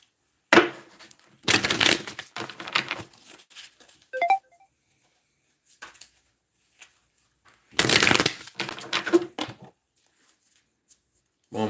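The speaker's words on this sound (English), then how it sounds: "one more shuffle" A deck of tarot cards being shuffled by hand, in several distinct bursts of riffling and flicking separated by quiet pauses, close and fairly loud.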